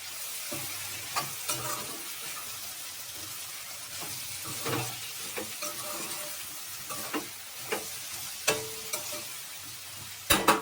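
Broad beans (chikkudu kaya) fry in oil as a spoon stirs them, a soft continuous sizzle broken by repeated scraping and tapping strokes, close by and without talk, ending in a few louder knocks.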